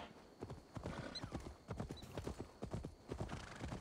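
Horse hooves clip-clop in a steady rhythm as a mount walks in the video game Assassin's Creed Valhalla, with brief whinnies and faint background ambience, no talk over it.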